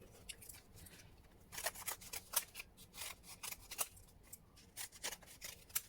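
Scissors cutting through paper sheets in rapid, uneven bursts of crisp snips, close and fairly quiet, with no talking.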